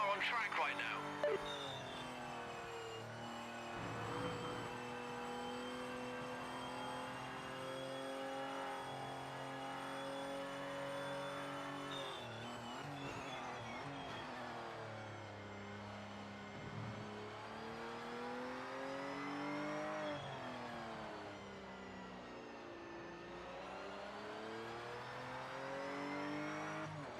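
Race car engines in Project Motor Racing scream continuously at high revs, pitch climbing and dropping through gear shifts, with a brief tyre squeal, while a voice talks over the top throughout.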